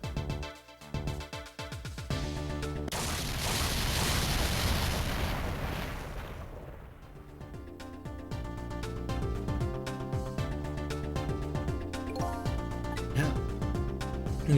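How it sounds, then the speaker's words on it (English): An explosion in the video game Ghost Trick: Phantom Detective, a broad burst of noise that swells for several seconds and then fades, with game music continuing over it and afterward. "I think I heard an explosion somewhere."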